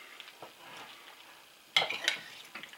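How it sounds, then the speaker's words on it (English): A utensil stirs chopped ham coated in barbecue sauce in a hot pan, giving soft, quiet scraping and faint sizzling, then two brighter clinks against the pan. "we'll just stir it around so we can get it all coated"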